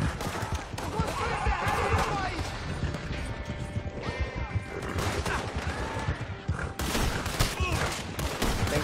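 Video game gunfire: dense, continuous bursts of rapid shots and crashing impacts, loud and close throughout, with sound effects layered over the battle.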